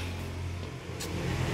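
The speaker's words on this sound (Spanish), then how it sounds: "Ah, fue el carro." A car driving past outside a house on moving day, a steady engine and road rumble at moderate distance, fairly even throughout.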